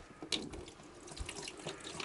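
Water is poured into a newly installed sink, a quiet running splash with small gurgles and drips that continues steadily and close by.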